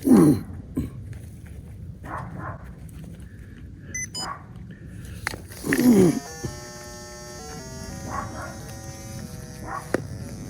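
Dogs lounging in a sunny outdoor spot in Petaca, New Mexico let out a couple of short, loud barks, one at the start and one midway, against a quiet background with a faint electrical buzz and hum.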